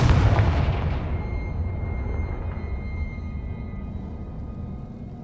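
A Confringo blasting spell detonates in Hogwarts Legacy, a loud booming explosion that opens sharply and then rumbles and decays over several seconds.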